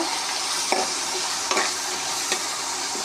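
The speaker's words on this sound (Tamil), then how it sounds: "அதை நல்லா வதக்கிட்டு" Food sizzles steadily in a pan, sautéing with turmeric for mochakottai kuzhambu, with a few sharp scraping stirs cutting through the constant hiss.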